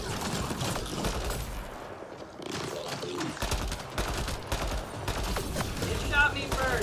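Gunfire from Remnant bots in the Mass Effect Andromeda video game: bursts of rapid shots and sharp mechanical impacts crackling in clusters, with a brief lull midway and a louder flurry near the end.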